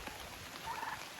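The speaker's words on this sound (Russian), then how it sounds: "Индюки в дождь" Turkeys gobbling outdoors in the rain, a short faint warbling gobble rising over a soft hiss of rainfall, fairly distant, with no talk.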